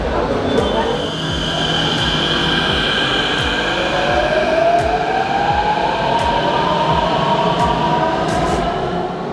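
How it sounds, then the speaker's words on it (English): Istanbul metro train in motion heard from inside the carriage as a loud, steady rumble with rhythmic wheel clicks over rail joints and a rising electric motor whine, while people talk faintly under the noise. "That is so cool. We just rode our first Turkish metro."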